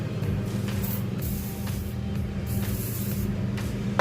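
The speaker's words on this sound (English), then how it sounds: "Give that a little spray, kind of spread it around." A steady, loud spray of PB Blaster penetrating oil from an aerosol can onto a Subaru EJ cylinder head, hissing continuously from start to finish, close up, over a low rumbling background hum.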